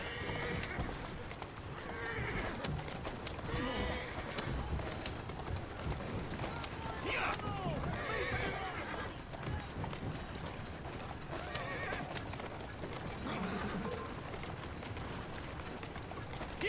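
Horse-drawn carriage galloping through Victorian London in Assassin's Creed Syndicate: steady clip-clop of hooves and rolling wheels, with occasional whinnies, loud and continuous throughout.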